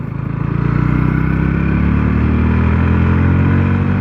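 A Bajaj Pulsar NS160 BS6 with a modified stock exhaust revs up and then holds a loud, raspy, pulsing drone close by, with no talk over it.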